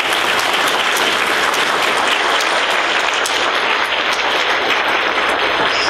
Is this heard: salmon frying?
no